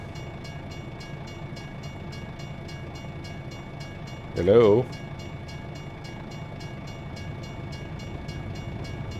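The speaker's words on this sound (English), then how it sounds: "There is a train coming," A train in American Truck Simulator rolls past with a steady rumble and rhythmic clatter, while a brief horn-like wail rises near the middle and a voice speaks once.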